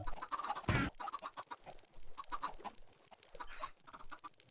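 Chickens cluck intermittently in a video game, with a few sharper bursts and a brief high squawk standing out over a soft background.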